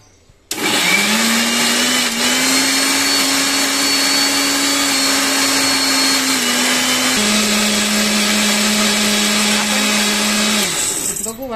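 A kitchen mixer grinder whirs steadily, grinding ginger-garlic paste with cashews and sugar for paneer butter masala; one continuous loud motor drone with a slight dip in pitch partway, starting and stopping abruptly, no talk.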